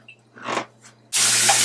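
Water pours steadily into a pot for tea after a few soft handling noises, a close, loud, continuous rush.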